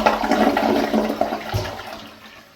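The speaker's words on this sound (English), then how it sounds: "Now let's hold the handle down and get a complete flush." A Kohler Wellworth toilet gives a full flush with the handle held down: a close rush of water swirls and gurgles, then drains and fades over a couple of seconds.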